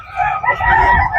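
A Brahma rooster crows once at a busy pet market, a loud, close, strained call lasting about a second and heard on its own.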